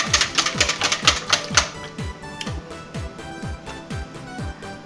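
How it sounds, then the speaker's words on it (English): Whisking warm milk into an egg mixture for baked custard: a steady run of quick, rhythmic clinks and scrapes of the whisk against the bowl, close and fairly loud, with no talking. "We whisk it in a little."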